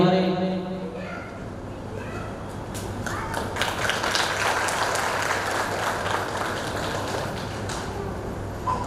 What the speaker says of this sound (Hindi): तो जोरदार तालियों के साथ भी मंडली का स्वागत।